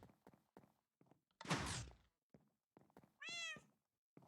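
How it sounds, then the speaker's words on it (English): A pet cat named Suzu lets out a single clear, rising meow near the microphone, following a burst of rustling and light thumps amid quiet room noise. "Alright, come on, cat."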